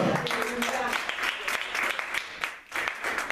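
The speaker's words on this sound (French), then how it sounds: "Si tu crois cela, acclame pour le Seigneur" A church congregation at a Sunday service bursts into dense, continuous applause and cheering, loud and close throughout, with voices mixed into the clapping.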